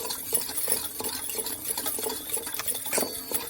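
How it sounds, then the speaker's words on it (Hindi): Cake batter of sugar, lemon, milk and oil being mixed in a bowl, heard as quiet, quick rhythmic tapping and soft sloshing strokes that run steadily without pause. "तापर आपको एबे भल भाव पूरा मिक्स करवा"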